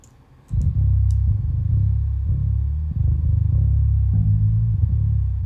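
Sub-low layer of a bass guitar track from a Carnatic progressive metal mix, a deep sustained rumble with shifting notes, loud and steady after a short quiet start, no voices.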